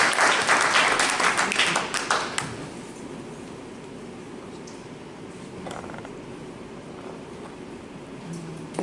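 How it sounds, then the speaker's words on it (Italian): Audience applause at a Réseau Entreprendre business event at the Festival della Crescita, a burst of clapping in the first two seconds or so that fades into quiet room noise. "Facciamo un bel applauso."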